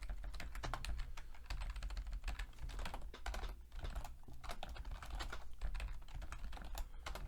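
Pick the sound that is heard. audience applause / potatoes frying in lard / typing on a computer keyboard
typing on a computer keyboard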